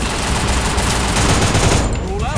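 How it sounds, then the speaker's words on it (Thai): Kingfisher gun firing in a video game, a dense, continuous burst of rapid gunfire filling the whole moment, loud and close with no pauses. "นี่ยิงเข้าหัวไปเลย"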